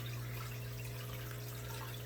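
An aquarium aerator pushes air into fish tank water, making a steady, faint bubbling wash over a constant low pump hum with no pauses.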